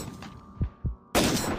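Gunfire in a Flash shooting game: two dull low thumps in quick succession, then a loud, sharp burst of noise that rings on to the end, close and alone with no talk.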